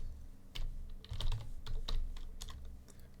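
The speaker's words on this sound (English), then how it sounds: "Let me go to Google and type Pycharm." Typing on a computer keyboard, a few close, distinct bursts of keystrokes with short pauses between them, heard alone with no talk.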